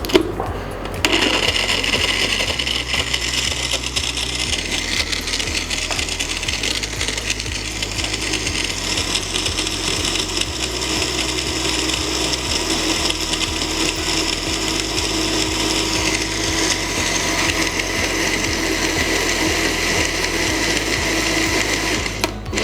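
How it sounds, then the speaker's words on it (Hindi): A blender runs continuously, blending almonds with chocolate syrup into a drink, its loud steady motor whir holding for the whole stretch with no talking. "इसको करेंगे ब्लेंड।"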